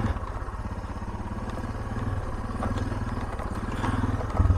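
A Suzuki DR650 single-cylinder dual-sport motorcycle riding along a road, its engine thumping in a steady, continuous pulse with wind and mechanical clatter, rising slightly in loudness near the end.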